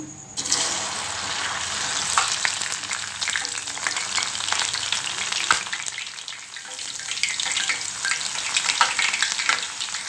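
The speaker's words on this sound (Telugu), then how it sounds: "బెండకాయ ముక్కల్ని వేయించుకొని పక్కకు పెట్టేసుకోవాలి" Okra pieces frying in a pan, a dense continuous sizzle and crackle heard up close, with faint stirring scrapes now and then and no talk.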